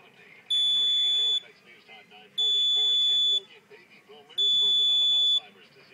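Carbon monoxide monitor alarm during calibration, three loud piercing electronic beeps of about a second each, evenly spaced, with talk underneath and between them.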